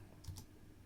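A few light keystrokes on a computer keyboard while writing a blog post in WordPress, soft and brief against a quiet room hum, no voices.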